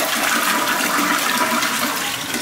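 Household toilet flushing with strong water pressure in a beach rental bathroom, a loud, steady, close rushing of water that fills the whole clip without talk.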